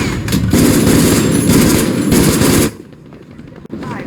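Gunfire in a war film breaks out in rapid bursts, loud and dense for about two and a half seconds, then stops abruptly, leaving a quieter background with one sharp crack.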